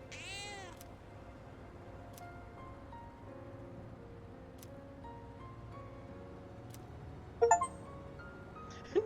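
A cat meows in Persona 3 Reload, with several drawn-out meows, the first and clearest right at the start, over steady background game music, followed by a couple of short chiming tinkles near the end.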